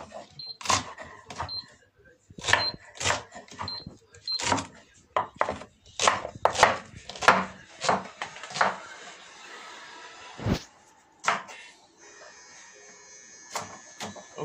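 Food is chopped into small pieces, with a run of irregular sharp knife strikes close by and bursts of buzzing, then a quieter stretch ending in a few more hits.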